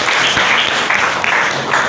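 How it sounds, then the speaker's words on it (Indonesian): Classroom applause for a student named Fiona, a short burst of clapping from the class filling the whole moment at steady loudness. "kita beri tepuk tangan untuk Fiona"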